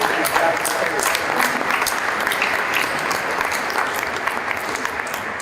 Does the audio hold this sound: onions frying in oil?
no